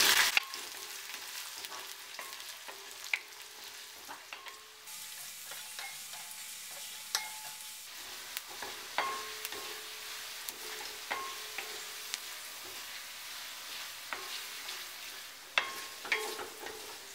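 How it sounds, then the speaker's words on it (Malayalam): Chopped garlic and curry leaves sauté in hot oil for a mango pickle, making a continuous crackling sizzle broken by sharp spatula scrapes and stirring taps at irregular intervals, close by and with no talking. "വെളുത്തുള്ളി അരിഞ്ഞത് രണ്ട് ടേബിൾ സ്പൂൺ കുറച്ച് കറിവേപ്പില ഇടാം നന്നായിട്ടൊന്ന് ഇളക്കാം നന്നായിട്ട് മൂപ്പിച്ചെടുക്കാം"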